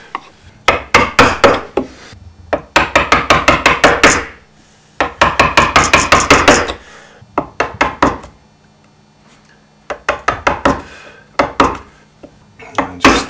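A mallet strikes a chisel and gouge carving the inside of a tough elm bowl, sharp woody knocks landing close in quick rhythmic runs separated by short pauses.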